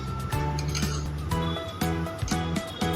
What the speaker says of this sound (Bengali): এর মধ্যে সামান্য জল দিয়ে দিলাম। খুব ভালোভাবে মিক্স করে নেব।